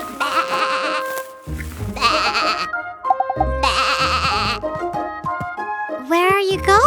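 Loud, drawn-out cartoon sheep bleats come in several separate bursts, each with gaps between, alongside a voice and light music from a preschool song.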